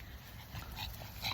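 A dog whimpers and yips briefly on an evening walk at Island Park in Portage la Prairie, its faint whines close against steady outdoor background noise.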